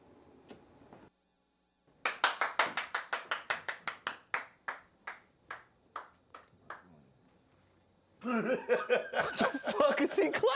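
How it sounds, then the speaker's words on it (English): Single person clapping slowly during a Richard Pryor comedy performance, about fifteen sharp claps that thin out and slow down, followed by a burst of speech and laughter. "What the fuck is he clapping for?"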